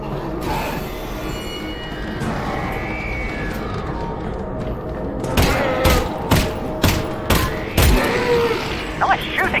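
Gunfire in the virtual-reality game Half-Life: Alyx: a burst of several sharp, loud shots in the second half, spaced irregularly, following a stretch of ambient game rumble and faint background sound.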